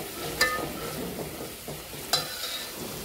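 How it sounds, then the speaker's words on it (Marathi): Masala paste sautéed in oil with a splash of water in a pan for dabuvada veg bhaji, a steady low sizzle with two sharp scrapes of a stirring spoon against the pan. "याला छान परतून द्यायचं आहे"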